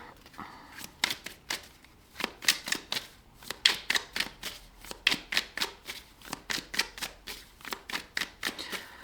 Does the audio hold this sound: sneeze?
no